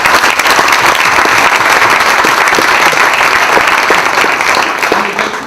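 A roomful of people applauding at the Putnam Block open house, a thick, even wash of clapping held at full strength for several seconds before tapering off at the end.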